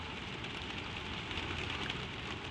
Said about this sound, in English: the rain falls on the roof all around you